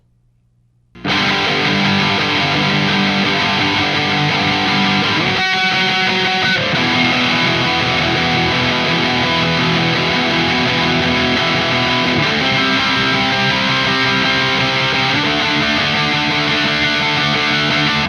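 A Samick Greg Bennett Formula FA-2 Telecaster-style electric guitar plays with heavy distortion, thick sustained chords ringing loudly and continuously after a silent start.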